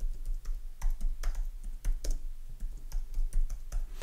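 Typing on a computer keyboard to enter a name into a Jitsi video-conference profile: a close, steady run of crisp key clicks in an uneven rhythm, heard alone with no talking.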